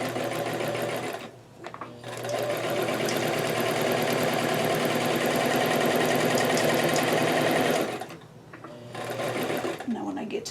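A sewing machine stitches a doll dress with a loud, close, steady mechanical whir, stopping briefly twice before starting up again, while a voice is faintly present.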